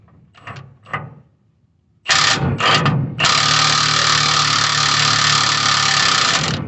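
An impact wrench works on the torsion bar bolt under a 1993 Toyota pickup, a couple of short bursts followed by a long, loud, steady whirring run close by.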